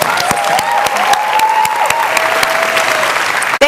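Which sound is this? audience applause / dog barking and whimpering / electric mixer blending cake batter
audience applause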